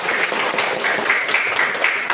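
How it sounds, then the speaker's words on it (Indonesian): Indonesian secondary school students in a classroom clap together after singing, a dense, even burst of applause that holds steady throughout at moderate loudness, with no voices on top. "Oke, tepuk tangan untuk kita."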